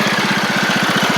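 A Troy Bilt TB42 riding mower's Powermore 541cc engine, in need of a head gasket and carb work, idling with an even, rapid low chug that holds steady and close throughout.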